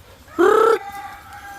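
A single loud, drawn-out call from a chicken, close by, followed by a fainter trailing note against quiet background.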